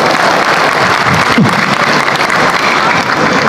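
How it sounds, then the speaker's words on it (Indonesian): Loud, dense applause from a stand-up comedy audience in a packed room, a continuous wash of clapping throughout. "Tepuk tangan buat saya."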